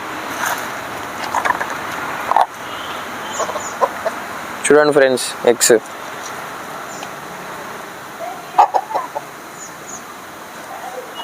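Chickens and roosters on a farm, with clucks and calls rising around the midpoint and a few more later, mostly near and moderately loud, while someone talks over parts of it.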